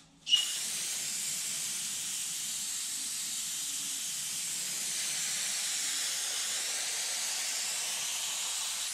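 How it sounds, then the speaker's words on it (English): An aerosol can of de-oiler sprays onto a front axle in one long, steady hiss that starts abruptly and continues for several seconds, close and fairly quiet. "We're going to spray some stuff on it."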